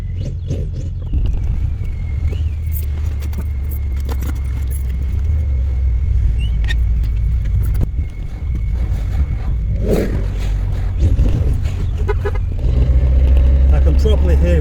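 Car engines idle and rev in a parking area as cars pull away, a steady low engine rumble throughout with a louder engine swelling near the end, with people talking over it and some rattling.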